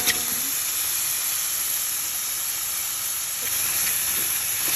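Chicken goes into a hot pan with garlic and mushroom for a Filipino creamy chicken dish, and a loud, even sizzling hiss fills the whole stretch with no voices.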